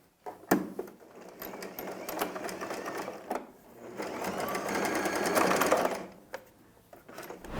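A domestic sewing machine stitching a fabric scarf runs in a steady, fairly quiet mechanical whir with clicking bursts, stopping briefly and starting again, with no talking over it.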